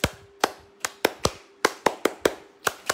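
Crisp, near hand claps from an audience during a live product stream, about a dozen sharp separate claps in an uneven rhythm over a quiet background.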